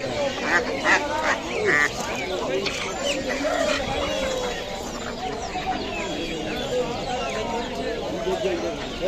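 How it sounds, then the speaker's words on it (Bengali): Domestic ducks quack repeatedly among other poultry at a noisy market, with people talking over the flock throughout. "পাতি হাঁস কত করে দাম?"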